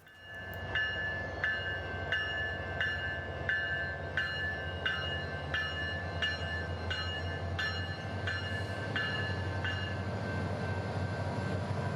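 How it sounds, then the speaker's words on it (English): Sunrail passenger train P315 pulls away from Sand Lake Road station, a low diesel drone under a steady train of evenly spaced bell-like clangs that fade as it departs. "Sunrail train P315 is off for Point South"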